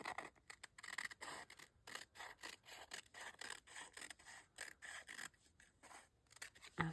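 Scissors snipping through paper while trimming a junk journal page, a quick run of short crisp cuts in steady rhythm, close and fairly quiet, ending with a soft thump.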